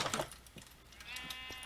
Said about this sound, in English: But of course, there are sheep.